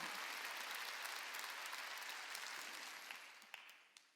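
Church congregation clapping during a Sunday worship service, a dense, loud wash of many hands that gradually thins and fades out with a few last scattered claps.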